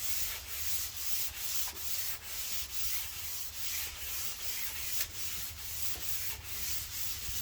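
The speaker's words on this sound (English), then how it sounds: "I'm using 220 grit now, while my daughter's using the 150." Wood being hand-sanded with 220 grit sandpaper during homestead chores: steady, rhythmic rasping strokes, close and continuous, with no talking.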